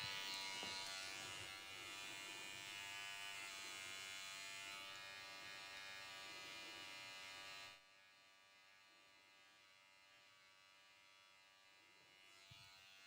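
Electric hair clipper buzzing steadily while cutting hair at a close straight angle during a long pixie cut, a loud continuous hum that drops sharply to a quieter drone partway through.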